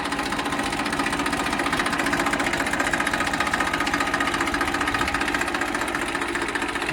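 A Massey Ferguson 1035 self-start tractor engine runs at a steady idle, close and even, with a regular rapid knocking pulse throughout and no talking.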